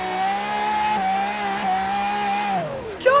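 Simulated supercar engine in Forza Horizon 3, an Aston Martin Vulcan or Pagani Zonda R, holds a steady loud droning rev that drops in pitch as the clutch is kicked in near the end, followed by a brief rising burst.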